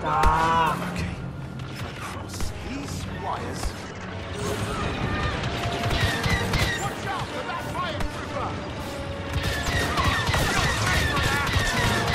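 Rapid gunfire bursts and blaster shots in the video game Star Wars Battlefront 2, loud and dense over battle noise and music, with voices shouting over the combat.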